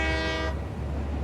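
Tail end of a train horn blast in the video game Satisfactory, loud and sustained for half a second before cutting to low rumbling machinery hum.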